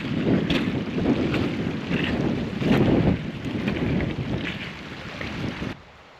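Strong gusting wind roars and buffets the microphone with a low rumble for several seconds, then drops away abruptly near the end, on a wet night in the Forest of Bowland, England.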